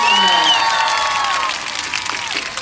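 A studio audience at a girls' talk show breaks into applause and light cheering, loud and dense at first, then thinning slightly toward the end.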